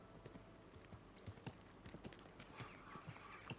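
Horse hooves clip-clop steadily on a road in the medieval game Kingdom Come Deliverance 2, a fairly quiet, even trot of distinct hoofbeats without talk.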